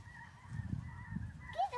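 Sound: geese honking, flying north

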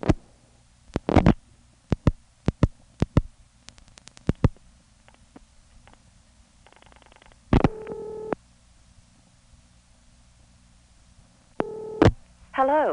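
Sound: telephone call tandeming through the NX1 switch after dialing 451

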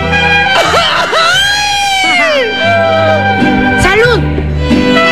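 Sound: Mexican grito shout with mariachi

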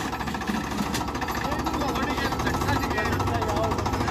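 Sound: Mahindra tractor engine starting

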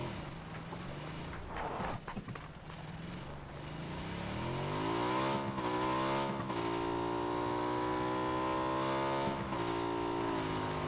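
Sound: vehicle driving in video game PlayerUnknown's Battlegrounds

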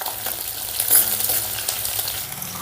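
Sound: green chillies and garlic frying in a pan

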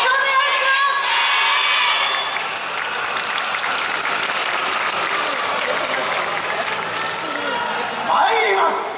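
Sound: audience applause and cheering at yosakoi dance performance

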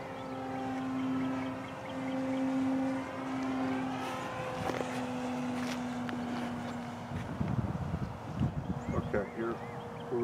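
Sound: Horizon Hobby Beast 60e RC plane motor at half throttle

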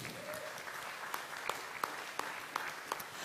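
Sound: audience applause at a live event

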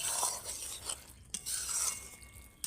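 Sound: stirring okra (bhindi) curry in a pan

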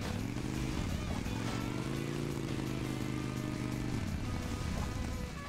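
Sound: motorcycle engine in Hill Climb Racing 2 video game

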